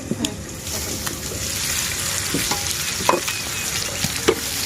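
Chicken and potatoes sautéing in a pan in a village kitchen, a steady low sizzle with scattered scrapes and clinks of a stirring spoon against the pan, moderately close.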